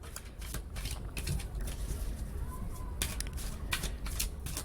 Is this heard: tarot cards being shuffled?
yes